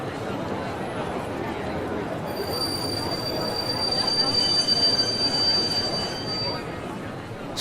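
Train arriving at a station as a drama sound effect, with a steady rumble of rolling wheels, a long high squeal of braking and a low murmur of passengers underneath.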